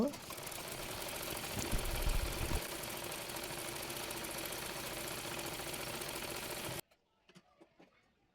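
A sewing machine hums steadily as it stitches down the folded bottom hem of a kameez, running close and continuous for several seconds before stopping abruptly, leaving faint handling noises behind.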